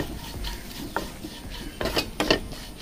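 A spoon stirs spices and garam masala into a fish molly in a pan, with a few soft scrapes followed by sharper clinks against the metal, close by and brief.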